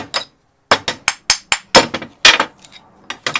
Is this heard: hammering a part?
yes